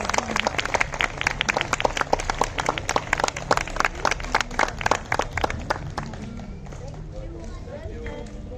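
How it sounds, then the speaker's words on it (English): An audience at a school prize distribution ceremony claps in a dense burst of applause for several seconds, then thins out and fades near the end. "big round of applause"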